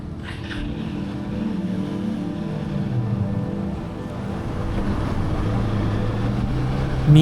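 A ferry reaches the Mandwa jetty on the Mumbai to Alibag crossing, its engines holding a steady low drone with a hum of wind and water, constant and fairly loud with no voices.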